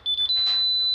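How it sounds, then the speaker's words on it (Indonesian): A personal gas detector sounding its start-up alarm after power-on: a few quick high electronic beeps, then a sustained piercing tone, loud and close, with a brief soft rustle in the middle. "terdengar bunyi alarm dan nanti alarm itu juga bunyinya seperti itu saat dia mendeteksi"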